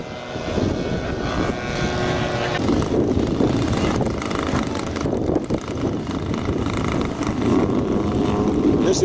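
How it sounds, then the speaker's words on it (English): A side-by-side Air Coupe, a civilian light aircraft, takes off at an airshow. Its propeller engine drones loud and steady throughout, and faint crowd and wind noise sits underneath. "This aircraft taken off is a side-by-side air coupe, popular civilian aircraft with coordinated controls"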